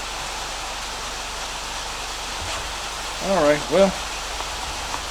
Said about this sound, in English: Oh, now it's raining, so sorry about the rain sound.